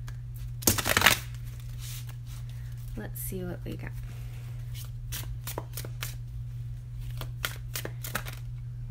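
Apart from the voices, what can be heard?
shuffling tarot cards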